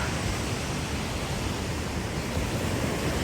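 Sea water washes up a sandy beach in Vietnam, a steady, dense hiss of surf that stays even and close throughout, with no voices.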